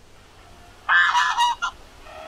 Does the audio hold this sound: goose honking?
yes